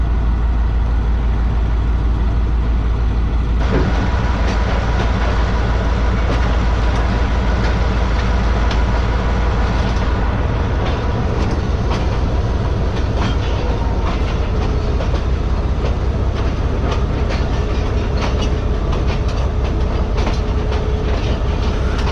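Mohen Jo Daro passenger train running through Sindh, heard from on board: a loud, continuous rumble with steady clickety-clack of wheels over rail joints, no talk.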